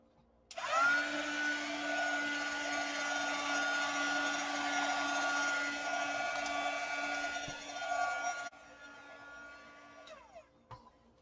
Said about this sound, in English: I'm going to hit this again with the heat gun, dry it off really good.